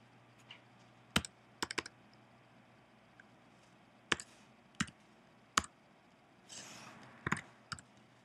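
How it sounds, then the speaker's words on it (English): Keys tapped on a computer keyboard while a software product code is typed in, the clicks coming in short scattered bursts and single strokes, fairly close against a quiet room hum with no talking. "Now we're going to key in the EVA code, which is inside of our binder."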